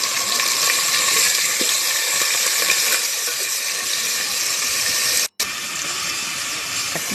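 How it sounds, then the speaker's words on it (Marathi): Ground garlic and coriander paste dropped into hot oil in a pot smeared with turmeric, with curry leaves already frying, giving a loud, steady, continuous hiss and crackle that holds for several seconds with one brief break. "आता लसूण आणि कोथिंबीर वाटलेली टाकून घेते."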